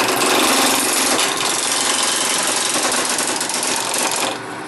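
A wood lathe motor runs steadily with a rough piece of ash mounted, giving a loud, dense, continuous mechanical whir up close that drops off near the end, and no talking.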